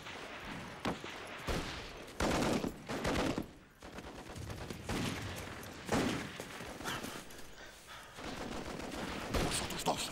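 Dense bursts of machine gun fire and volleys of gunshots from a World War I battle scene in the film El Batallón Perdido, loud and continuous across the whole stretch with some shorter breaks.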